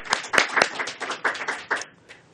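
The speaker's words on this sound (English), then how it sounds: "Everyone, please join me in a round of applause for Sheena." A small Toastmasters club meeting audience claps for a speaker named Sheena, a brief burst of sharp, distinct handclaps that thin out and fade within a couple of seconds.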